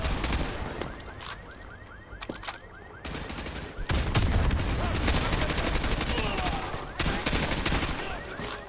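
Gunfire in Modern Warfare 2 Remastered: rapid, loud bursts of automatic weapon fire and dense fusillades of shots, continuing throughout with brief lulls, with a voice talking at times underneath.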